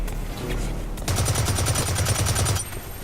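A burst of automatic assault rifle fire in Blacklight Retribution on PS4, with rapid evenly spaced shots for about a second and a half over steady game background noise, followed by a brief tail.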